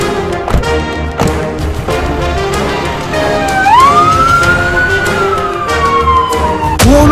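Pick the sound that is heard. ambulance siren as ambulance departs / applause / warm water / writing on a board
ambulance siren as ambulance departs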